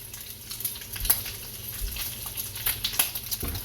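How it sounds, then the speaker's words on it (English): Bacon sizzles while frying in a round-bottomed pan, a close, steady crackle with frequent sharp pops and spits layered over a soft continuous hiss, no voices. "Sizzly bacon, sizzly bacon."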